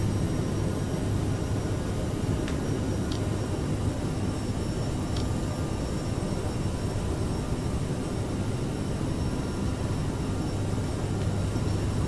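Aerosoft CRJ jet taking off in Microsoft Flight Simulator, a steady broadband engine roar with a low hum, loud and constant throughout with no talking.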